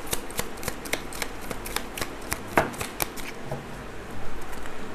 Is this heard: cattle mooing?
no